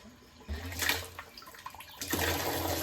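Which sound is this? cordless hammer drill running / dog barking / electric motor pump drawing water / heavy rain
electric motor pump drawing water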